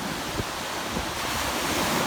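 Ocean surf and choppy water off Sandy Point on Plum Island, churned by a moderate northeast wind, a steady close roar of waves with wind buffeting the microphone.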